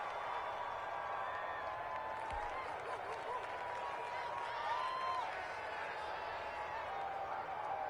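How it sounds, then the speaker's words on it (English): A home crowd applauding after a basketball game win, a steady, dense wash of clapping from a large arena audience with a few scattered whistles and cheers. "the home crowd applauding"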